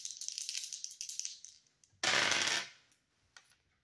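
Dice rattle and clatter briefly, a close, bright tumbling burst preceded by softer shaking clicks, then falling quiet with a few small taps.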